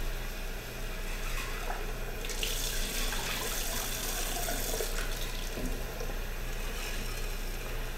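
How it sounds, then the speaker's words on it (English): Tap water runs steadily into a sink as sprouting beans such as mung beans and garbanzos are rinsed, a constant close hiss and splash with slight swells as the flow is disturbed. "Rinse them out good."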